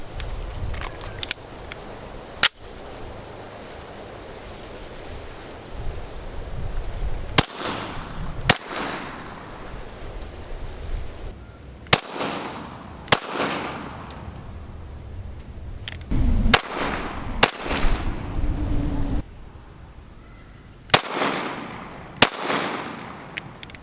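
Rifle shots through a JK Armament CCX suppressor as it is taken apart baffle by baffle, a dozen or so sharp suppressed cracks spaced a few seconds apart outdoors, with faint handling and movement between shots and no talking.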